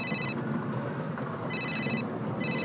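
A telephone rings with electronic bursts in a regular pattern, three rings separated by pauses, over a steady low background rumble with no talking.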